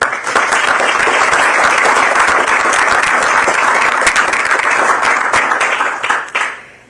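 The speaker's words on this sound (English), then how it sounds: "Round of applause for Cade." Audience at a Boston civil rights and labor event on AI gives a loud, dense round of applause that holds steady for several seconds, then tapers off quickly near the end.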